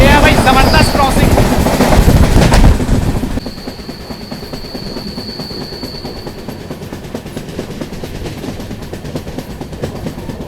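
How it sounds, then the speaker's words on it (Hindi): Two trains pass each other at a crossing on an Indian railway. A loud, close rumble of rolling wagons drops abruptly to a quieter steady clatter with a thin high whine. "ये है भाई जबरदस्त क्रॉसिंग।"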